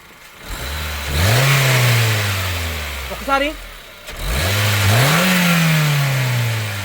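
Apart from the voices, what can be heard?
petrol car engine revving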